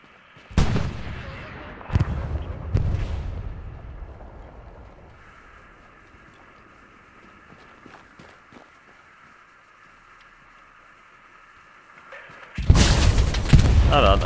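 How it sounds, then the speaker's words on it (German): In the Hell Let Loose video game, a satchel charge blows up a halftrack, with heavy booming blasts and rumbling decay early on, a quieter stretch of engine drone, then another loud sustained roar of explosion at the end. "Ah, da hat einer einen Satchel rangelegt und das Ding mit einer Satchel gesprengt."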